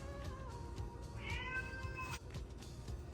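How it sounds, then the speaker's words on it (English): A cat meows once in a drawn-out, wavering cry, fairly faint and set against a quiet kitchen background hiss. "And then I'm going to figure out what to do with this cat."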